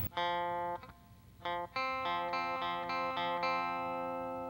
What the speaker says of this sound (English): And then for the clean part, it's going to sound like this.